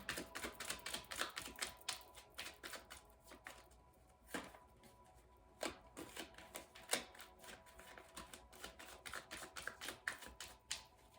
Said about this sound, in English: Don't keep shuffling.